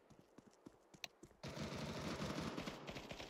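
Dense, rapid automatic gunfire from a Counter-Strike 2 match, sparse shots and footsteps at first, then a sustained loud burst of continuous fire filling the second half.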